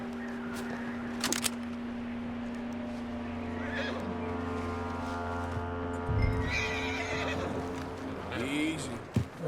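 Horse in Red Dead Redemption 2 neighs and whinnies loudly and close over steady in-game ambience, with a few hoof clops and a heavy thump around the middle.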